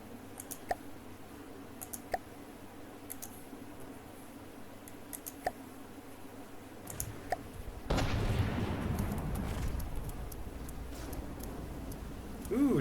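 Missiles fire and explode in the naval combat game From the Depths: scattered sharp clicks and pops lead into a sudden loud rushing blast that roars on, with faint talk beneath.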